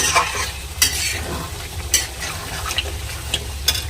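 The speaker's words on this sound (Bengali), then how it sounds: "চিকেনের একটা কষা করছি" Chicken kosha cooked down in a pan, with a constant close frying sizzle broken by repeated sharp scrapes and clacks of a spoon stirring against the metal, no talking.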